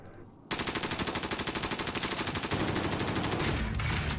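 Sustained automatic gunfire in Call of Duty: Modern Warfare, a rapid rhythmic burst that breaks in suddenly and keeps hammering without pause, loud and close-sounding rather than distant.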